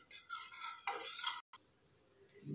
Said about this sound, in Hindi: 1 ग्लास पानी डालेंगे और इसे अच्छे से मिक्स कर लेंगे ताकि लम्स ना पड़े बेसन से।